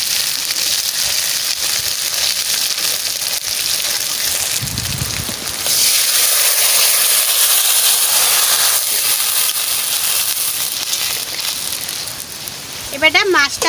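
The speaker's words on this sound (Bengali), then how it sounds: "মশলাটা এই তেলে ভাজা হয়ে যাবে।" Masala spices frying in hot oil for a fish curry with ul, a steady broadband hiss and sizzle that swells midway and runs throughout, close and fairly loud, with no talk over it.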